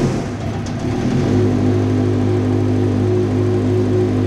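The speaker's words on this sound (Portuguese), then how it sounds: "nada mais justo do que dar uma partida e ouvir o ronco dela." A vintage 750 motorcycle engine fires up and settles into a loud, steady rumbling idle with a deep, throbbing beat, close by and alone without talk.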